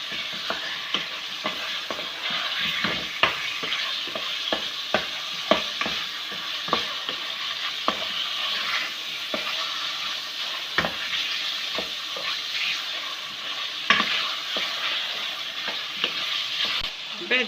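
Chicken sizzles steadily as it fries in a pan, with frequent sharp scraping clicks from a utensil stirring it, close and continuous throughout.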